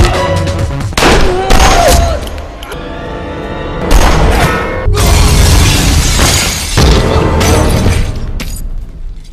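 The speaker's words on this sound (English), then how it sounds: "shootout between Don and Jabbar's men" Gunfire and crashing impacts from a film shootout between rival gangs, loud bursts and shattering hits packed densely across the scene with heavy low rumble and few pauses.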